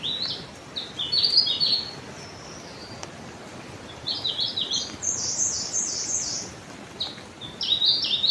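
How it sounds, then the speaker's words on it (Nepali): Birds chirp and trill in a peaceful forest along a trail, several bright bursts of song scattered over a soft, quiet background, no voices. "चराहरूको आवाजहरू सुन्दै अगाडि बढ्न सकिन्छ।"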